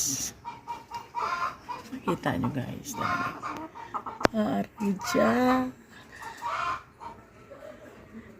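A chicken clucks intermittently nearby while a person talks casually over it.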